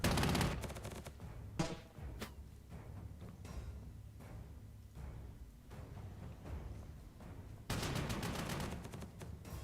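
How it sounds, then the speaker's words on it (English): Artillery and gunfire in the Panzer Corps 2 strategy game, loud bursts of rapid cracking fire at the start and end with quieter scattered shots in between. "hit that guy with artillery"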